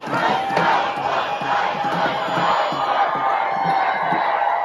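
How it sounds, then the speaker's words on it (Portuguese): A large protesting crowd, heard through a replayed video, shouts and chants together in a continuous roar. Raised voices overlap loudly throughout, with no pause. "aqui tem um vídeo de uma multidão"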